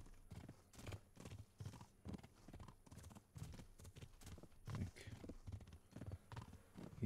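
Quiet, steady hoofbeats clip-clop as a horse is ridden in Kingdom Come: Deliverance, a walking rhythm that runs throughout alongside faint game ambience.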